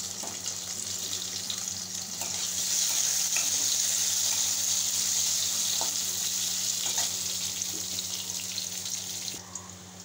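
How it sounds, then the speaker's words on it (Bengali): Continuous crackling sizzle of potatoes frying in oil, swelling louder after a few seconds and holding steady, with a low hum underneath. "এবার আলুগুলো একটু ভেজে নেব"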